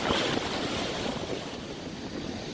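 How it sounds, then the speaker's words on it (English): Rough ocean surf breaks at Myrtle Beach as a steady, broad roar of waves with wind buffeting the microphone, fairly loud and continuous, with no one speaking. "these waves are tough"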